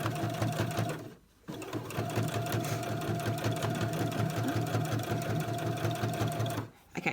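Sewing machine running steadily as it stitches a fabric marble maze, a rapid even mechanical whirr and needle rattle, close and fairly loud, briefly pausing twice before resuming; no talk.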